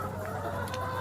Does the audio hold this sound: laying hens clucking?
yes